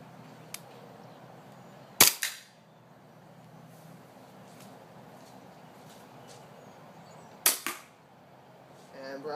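A WE 1911 MEU gas airsoft pistol fires with recoil: two sharp, loud cracking shots a few seconds apart, each with a short echoing tail, over a quiet background.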